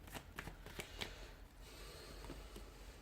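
Tarot cards are shuffled by hand in a quiet room, giving soft riffling and flicking sounds with a few sharper card slaps near the start.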